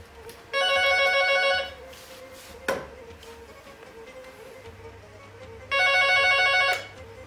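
A telephone rings in two separate bursts about five seconds apart, with a single sharp knock between them in an otherwise quiet room.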